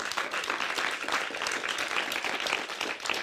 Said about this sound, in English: So a big round of applause for the volunteers.